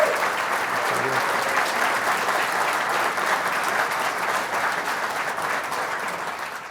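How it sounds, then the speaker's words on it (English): An audience at a live agricultural market talk show in Nashville applauds steadily, a thick wash of clapping that holds for nearly seven seconds and fades slightly at the end. "Let's get a round of applause."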